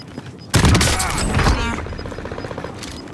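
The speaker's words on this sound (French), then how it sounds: "J'essuie des tirs" Gunfire from Call of Duty Warzone bursts in suddenly after a quiet start, a loud close volley of shots with a rattling tail, and a voice can be heard over it.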